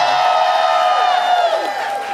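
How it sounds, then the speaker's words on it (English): A crowd at a Chicago drag revue cheers for the local drag queens. Piercing whoops and high screams ride over steady applause, loud and continuous for the whole stretch. "Clap for them. They're awesome."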